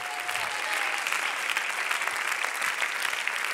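A church congregation applauds steadily in a dense, continuous wash of clapping that fills the room for a few seconds, with no voices standing out.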